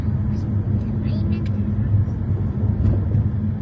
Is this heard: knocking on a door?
no